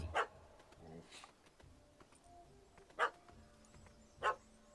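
A puppy in the video game The Witcher 3 barks three times, sharp and fairly near, spaced well apart. Quiet game sounds and voices lie between the barks.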